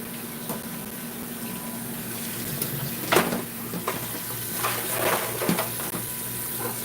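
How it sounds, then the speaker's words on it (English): Cold tap water running over freshly cooked crabs in a pot after the burner is turned off, a steady close rush of water with splashes and clinks of shells and pan, no talk. "And hit them with the cold water."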